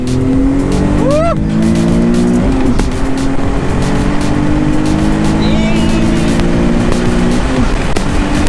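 A Nissan 370Z on coilovers and new wheels accelerates hard in a pull, its loud engine note rising steadily through the gears with a brief shift dip, heard close from inside the car with faint voices.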